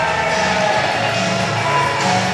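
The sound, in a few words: wrestling arena crowd cheering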